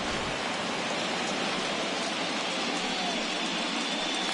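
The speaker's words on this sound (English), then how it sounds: "and Dan, when it comes to pitching in the rain, what changes?" Rain falls steadily on a ballpark during a Dodgers versus Giants playoff baseball game, a dense even hiss that fills the whole stretch without letup and without talk.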